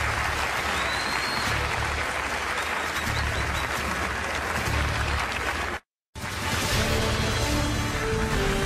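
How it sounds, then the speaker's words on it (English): Audience applause at a CNN Republican presidential debate at the Ronald Reagan Library: dense, sustained clapping from a large crowd, cut by a brief break of silence before resuming just as full. "Please give some applause to the candidates."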